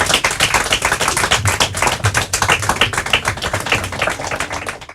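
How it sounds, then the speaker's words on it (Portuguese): An audience at a school quiz competition gives a dense, sustained round of applause for four teams, loud and steady from start to finish with almost no talking. "Palmas para eles, para as nossas 4 equipas."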